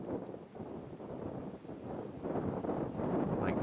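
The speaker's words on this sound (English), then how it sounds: "the wind seems to be picking up" Gusty wind buffets the microphone on an outdoor disc golf course during a tournament, a low, uneven rumble that swells and eases in waves.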